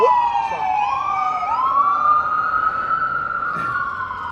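Loud ambulance siren wailing nearby in Philadelphia, its tone sweeping slowly up and holding high, over a low rumble of road traffic.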